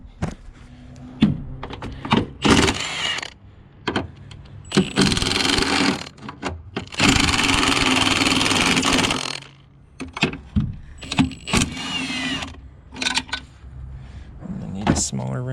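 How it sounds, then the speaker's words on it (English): Bursts of a pneumatic impact wrench spin off strut top bolts on a 2001 Nissan Maxima at the roadside. Several loud, buzzing runs, the longest about three seconds, are broken up by clanks, handling noises and talk nearby. "to take them off, I'm just going to use this impact because I got it out here"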